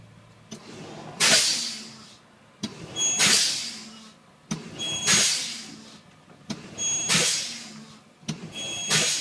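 Truck air brakes pumped during a pop-out test: four loud hissing bursts of released air, each swelling then fading, spaced about two seconds apart with quieter clicks between.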